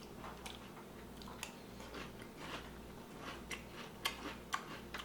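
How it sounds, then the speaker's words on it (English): Crunching of Magic Spoon keto cereal, small ring-shaped pieces, shows as a few soft, brief crisp bites at close range over a low steady background hum, getting a little sharper toward the end, with no talking. "They have a nice crunch."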